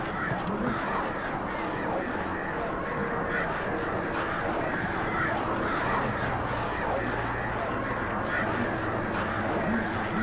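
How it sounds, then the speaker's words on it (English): A dense, loud chorus of crows caws and squawks continuously in Alan Wake Remastered, layered over a steady noisy background with no pauses. "Dude, these crows sound like dogs."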